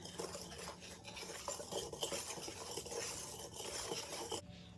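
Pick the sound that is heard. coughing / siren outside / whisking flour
whisking flour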